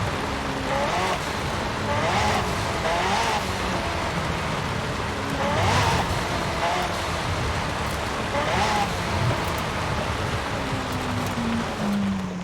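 A McLaren's engine in Forza Horizon 5 rises and falls through repeated revs as it accelerates and shifts, over a constant rushing wash of tyre and wind noise, moderately loud.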